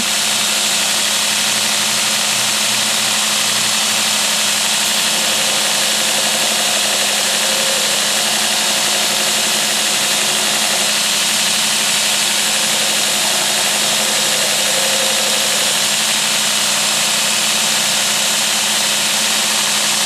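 A knife blade being hollow ground on a grinding wheel, a steady continuous grinding whir with a motor hum that holds evenly throughout, close and fairly loud with no talk.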